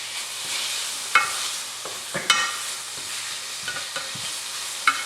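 Onions sauté for a Philly cheesesteak with a soft steady sizzle in a hot pan. Several sharp scrapes and clacks of a utensil stirring them punctuate the sizzle at irregular intervals.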